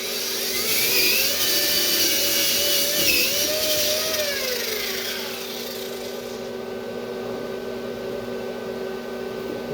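A power-driven cup brush scrubs a fresh GMAW weld bead, giving a loud, steady whirring grind with a shifting pitch that eases off partway through as the brush lifts, leaving the motor running alone.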